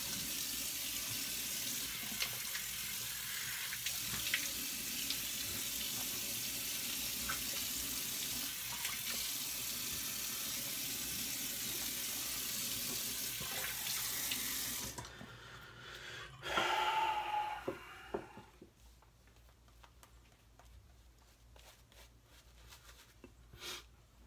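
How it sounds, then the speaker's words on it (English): A sink tap runs steadily during washing up after a shave, a loud continuous rush for most of the stretch, then it cuts off into quieter splashes and small handling sounds. "Alright, let me wash up."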